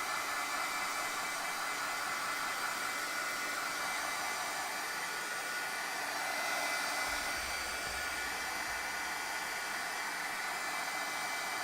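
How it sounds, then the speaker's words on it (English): A crafting heat tool blows steadily to heat set Distress Foundry Wax for die cutting, a loud continuous hiss-like roar lasting the whole stretch with no talk. "we're going to go ahead and heat set this"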